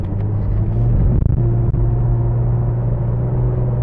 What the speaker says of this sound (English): Nice smooth and quick response on the downshift.